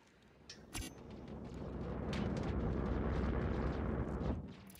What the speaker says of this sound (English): Watch out for the explosion.